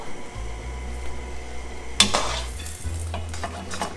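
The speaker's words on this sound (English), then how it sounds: "now we're gonna add the pasta right to the skillet" Mafaldine pasta drops into a skillet of lobster sauce, a sudden clatter and sizzle midway, followed by scraping and stirring of utensils against the pan.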